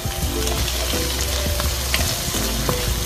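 Sliced mushrooms fry golden brown in a pan with a steady, close, crackling sizzle and occasional light stirring clinks, with no voices.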